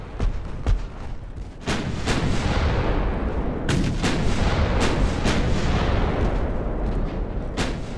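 Warship torpedo launchers fire a full salvo during an Ultimate Admiral Dreadnoughts naval battle, with several sharp booming shots over a dense, loud roar of ongoing battle noise.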